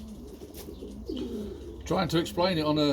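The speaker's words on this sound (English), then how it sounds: "how I feed my long distance marathon pigeons." Racing pigeons bred for long-distance marathon events coo softly in the loft in the morning, their low murmuring calls running under a man's nearby speech before louder, overlapping cooing swells near the end.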